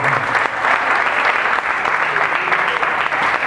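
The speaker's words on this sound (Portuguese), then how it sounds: "Um aplauso ao Senhor pela vida do nosso irmão." A church congregation applauds during a Bible study gathering, producing a thick, continuous wash of clapping that holds evenly throughout.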